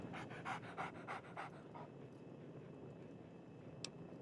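A dog in the video game Fallout 3 pants in quick, rhythmic breathy bursts for about a second and a half, then falls quiet under steady game ambience, with one brief sharp tick near the end.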